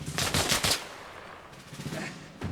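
Bursts of rapid gunfire in Arma Reforger, a quick run of shots followed by quieter rumble and a few more distant shots near the end.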